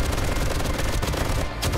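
Dense, continuous gunfire from the 7 Days to Die horde base challenge, a sustained loud barrage of rapid shots with no let-up.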